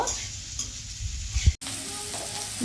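Vegetables fry for noodles in a pan, a close, steady sizzle with stirring scrapes and one brief louder clatter partway through.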